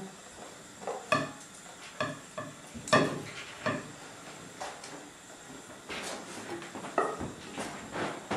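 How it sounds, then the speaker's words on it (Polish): Fried potatoes being stirred into a beaten egg mixture for a Spanish tortilla, a series of close scraping, sloshing stirs with irregular strokes and clinks, with no talking. "Tym etapem jest połączenie usmażonych ziemniaków z masą jajeczną."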